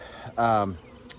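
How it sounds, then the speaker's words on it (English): A short, loud burst of honeybee buzzing rises briefly near a crowded hive, then drops away to quiet. "there were a bunch of bees in there, there were a lot."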